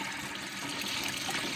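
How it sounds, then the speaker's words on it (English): Water poured from a mop bucket into a fish tank makes a continuous close rushing splash, steady and uninterrupted throughout. "He's about to put water in the tank with a mop bucket."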